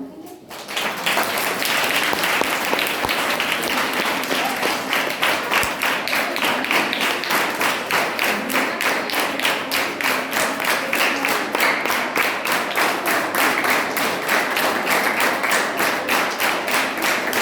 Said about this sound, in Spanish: vamos a darle un fuerte aplauso a María Ángeles.